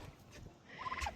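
Narragansett turkeys in an outdoor run give a short burst of rattling gobbles, moderately close, over soft background rustle and bird chatter.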